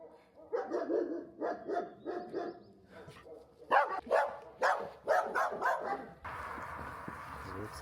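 Dogs at a dog park bark in quick clusters of sharp, close woofs and yips, with a steadier noisy stretch at the end.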